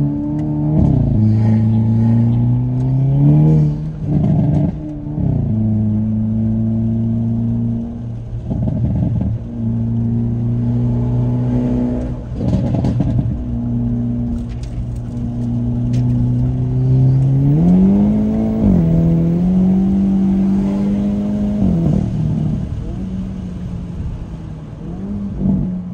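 Hyundai Kona N fitted with an SXTH Element downpipe exhaust, pulling hard through the gears, a loud close engine drone that climbs in pitch on each pull, drops at shifts, and rises again several times.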